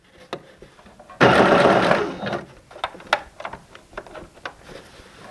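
A sewing machine sews elastic onto a leotard in a short, loud burst of rapid stitching under a second long. Scattered ticks and fabric-handling clicks come before and after it.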